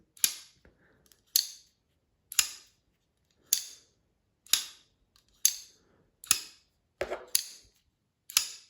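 A Rike-made knife flipped open and closed over and over, giving sharp, crisp metallic snaps at a steady pace of roughly one per second, close and clean against a silent background.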